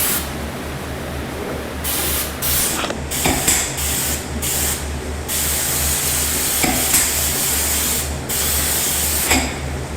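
A spray gun lays clear coat finish onto distressed wood samples with tiger-grain patterning, giving a steady close hiss broken by short pauses and bursts as the trigger is released and pulled again.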